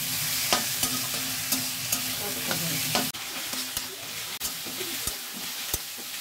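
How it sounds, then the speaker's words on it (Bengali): A tomato, salt, turmeric and garlic spice mix for a mustard-poppy pomfret curry sizzles steadily in a pan, with a utensil scraping and tapping in irregular strokes close by; no one speaks. "এবার আমি এর মধ্যে দিয়ে দেবো একটু টমেটো, নুন, হলুদ। মশলাটা একটু ভালো করে কষে নেব"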